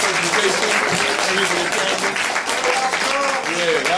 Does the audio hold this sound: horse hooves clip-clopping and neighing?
no